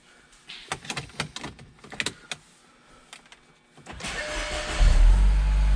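Several clicks and mechanical knocks, then a Mini Cooper Countryman S engine cranks and turns over, settling into a loud, steady idle.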